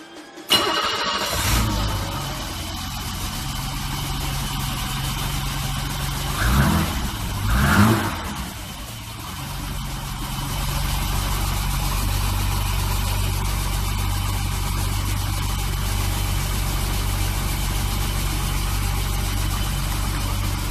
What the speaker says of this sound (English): silnik pracuje bardzo ładnie, równo, nawet nie trzeba robić żadnych regulacji